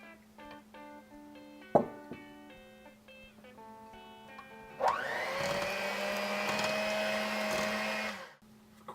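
An electric mixer whirs steadily in a bowl of ingredients for a pumpkin recipe, with a sharp knock partway through before the motor climbs to a louder, sustained whine and then cuts off.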